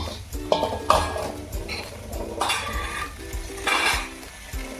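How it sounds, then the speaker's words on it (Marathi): Roasted green chillies and garlic cloves pounded in a mortar and pestle for a tomato chutney, giving irregular close thumps and scraping clinks over a few seconds, with no voices. "आणि हा ठेसा बारीक कुटून घ्यायचा"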